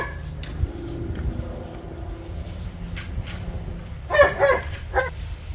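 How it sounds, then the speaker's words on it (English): A dog barks and yips in a few short bursts, the loudest cluster near the end, over a steady low rumble of road or engine noise. "Now he's looking right at me and barking."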